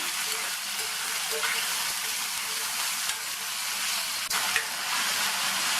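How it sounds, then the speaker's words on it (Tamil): Potato pieces sautéing in oil in a pan give a close, steady hiss of frying, broad and even throughout, with a few faint stirring scrapes and no voices. "இந்த உருளைக்கிழங்க எண்ணெயிலேயே நல்லா வதக்கி வச்சுக்கணும்."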